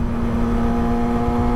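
A car accelerates up to highway speed while merging, behind a Scion xB box car, as a steady loud engine drone with a rising whine holds throughout.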